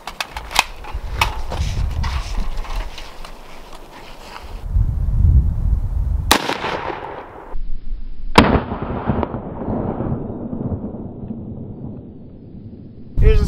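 A rifle fires 5.56 green tip steel core 62 grain rounds at a range, with several sharp, loud reports spaced seconds apart and a dull rumble ringing out between them.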